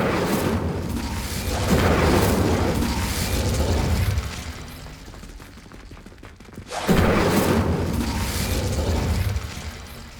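The Incendio fire spell is cast in Hogwarts Legacy, a loud whooshing burst with crackling rumble that fades, then a second strong burst follows after a short quieter stretch.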